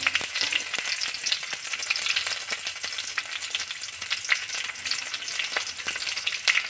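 Dried red chilies and curry leaves frying in hot oil for a pesarapappu curry tempering, a continuous crackling sizzle with scattered sharp pops.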